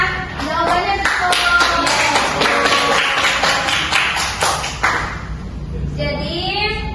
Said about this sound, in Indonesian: tepuk tangan untuk Ririn ya, karena jawabannya betul.